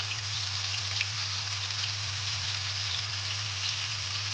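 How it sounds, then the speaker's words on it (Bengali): Rohu fish frying in hot oil with spices, giving a steady, dense hiss and crackle like fine rain that carries on evenly throughout with no pauses, under a low constant hum. "সব মশলা দিয়ে মাছটাকে একটু আগে তেলে ভাজি করে দিচ্ছি"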